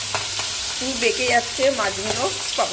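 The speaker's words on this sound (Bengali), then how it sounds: "এটা ভাজতে দিয়ে দিই।" Giant freshwater prawns fry in a hot pan with a close, steady sizzle and light stirring, while a person speaks over it.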